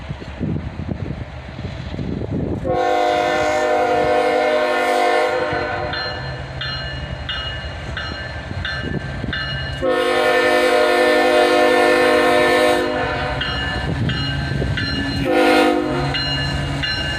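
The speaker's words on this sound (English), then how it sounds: "it was time for this southbound autorack train to move" A southbound autorack freight train led by a single ES44 ACH locomotive sounds its horn in two long, loud blasts, with the rumble of the moving train underneath and a brief tonal note between them.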